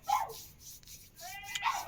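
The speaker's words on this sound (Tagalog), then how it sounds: "Yung aso talaga yung nagdala sa ingay." A dog barks and yips a few times in short bursts, with a brief whine between, fairly close in a quiet room.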